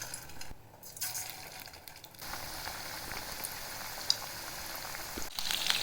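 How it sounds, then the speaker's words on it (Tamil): Marinated chicken pieces fry in a pan with a steady, quiet sizzling hiss and occasional faint pops and crackles. "ஒரு சிக்கனாக போட்டு ஃப்ரை பண்ணி எடுத்துக்கலாம்."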